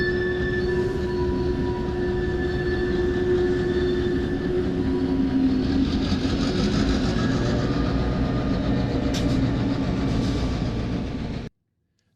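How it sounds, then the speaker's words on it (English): A Grand Trunk locomotive passes close by, its engine drone and steady rumble loud and continuous, with a sustained tonal whine and faint metallic squeals before the sound cuts off abruptly. "Grand trunk locomotive action."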